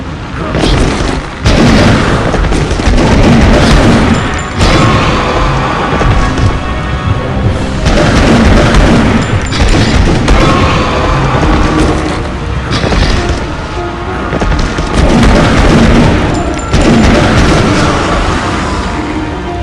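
Ranged weapon fire in the video game Bladeslinger comes as loud, repeated booming blasts in a dense, continuous barrage of game combat, with a voice speaking over parts of it.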